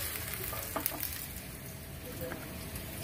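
Garlic sautéing in a cooking pan for chicken pastel, a soft, even sizzle with a few light stirring clinks, fairly quiet and without talk.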